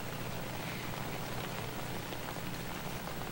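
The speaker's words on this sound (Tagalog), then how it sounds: "Emil, napansin ko, umuulan dyan sa lugar nyo ngayon." Steady heavy rain falls in Iligan City, a dense, even hiss of drops striking surfaces with no pauses and no voices.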